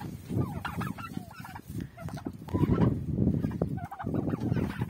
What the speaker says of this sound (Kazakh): Жалпы осы күрке тауықтар